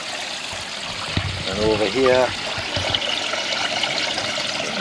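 Water trickles and churns steadily in a koi fish tank, a continuous close splashing flow with a few spoken words over it partway through.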